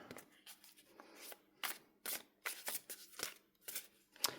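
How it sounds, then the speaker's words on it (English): Tarot cards being shuffled by hand in a quiet room, several crisp riffling bursts of papery flicks separated by short pauses, close and fairly soft. "I would just start by shuffling this 3 times."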